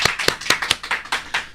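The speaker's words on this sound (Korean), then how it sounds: "큰 박수로 환영해 주십시오." A few people clapping in a studio to welcome a guest onto a talk show: close, sharp claps in a loose rhythm, with no talk.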